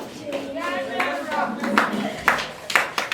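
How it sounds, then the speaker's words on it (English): Clapping breaks out under a speaking voice at a peer educator ambassadors' event, with sharp claps growing more distinct toward the end. "Clap for them now."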